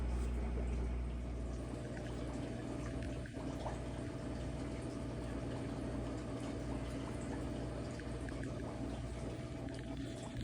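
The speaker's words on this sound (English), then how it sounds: "Just topping off the last little bit of water here" Water pumped into a 5-gallon tote to top it off, a steady low rushing and gurgling flow with broadband hiss that runs continuously at moderate level for the whole stretch.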